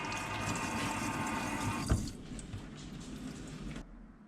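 Water poured from above onto coir growing medium in a microgreens tray indoors, a steady splashing trickle that stops sharply partway, then fades into softer soaking and dripping sounds.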